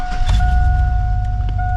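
A GMT800 Chevy Silverado / GMC Sierra pickup engine idling with a low, steady rumble just after restarting, with steady dashboard chime tones over it.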